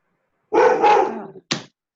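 A dog barks in a single drawn-out, loud bark followed by a short sharp second bark, close to the microphone with no talking over it.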